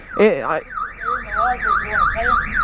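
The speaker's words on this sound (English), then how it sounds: "It's just the exhaust sets off alarms." A parked car's alarm, set off by a Yamaha MT-07 motorcycle exhaust, blares close and loud: a short burst of one tone pattern, then a steady rising-and-falling electronic warble.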